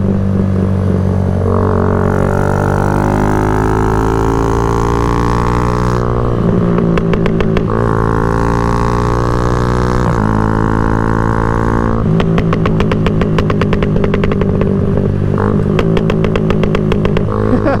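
A motorcycle engine drones steadily and close, rising and falling in pitch as it accelerates through gears, with a rapid ticking rattle at times.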